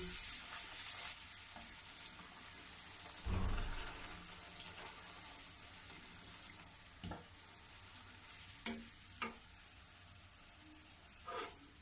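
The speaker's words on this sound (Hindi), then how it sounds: "इसी प्रकार से मैं सारा पूरी छान लूंगी।" Beetroot puris frying in hot oil, a faint continuous sizzle broken by a few louder splashes and scrapes as they are stirred and lifted, with no talking.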